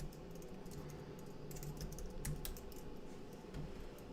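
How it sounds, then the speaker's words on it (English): Computer keyboard keys tapped in a steady run of quiet, closely spaced clicks, fairly faint against a low background hum, with no voices. "Okay, I'm gonna type it out for you."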